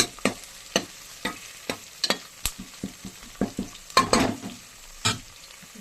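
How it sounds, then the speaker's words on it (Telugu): Stone flower spice fries in oil in a pan for mutton curry, with a steady spoon scraping the pan in an irregular rhythm over a soft sizzle, close up and without voices. "మంచి బ్రౌన్ కలర్ వచ్చే వరకు కలుపుతుంది"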